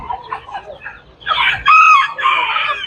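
Several chickens clucking and crowing nearby, including a loud rooster crow, amid the busy bustle of a poultry market in Tuzla.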